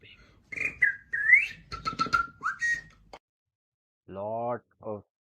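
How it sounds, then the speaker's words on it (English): A beatboxer at a beatbox championship whistles in bright, pitched bursts, a run of quick trills and slides followed after a short pause by two longer sustained whistled tones, close and clear. "Let the whistle speak."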